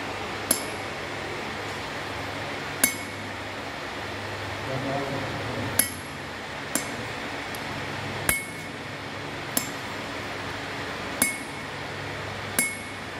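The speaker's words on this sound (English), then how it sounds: "Using the hammer, you have to make the punch." Sharp metallic taps of a hammer on a dot punch, about eight separate strikes at irregular intervals over a quiet background hum.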